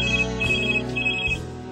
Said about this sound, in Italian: A rimetterlo in carreggiata arrivò una telefonata.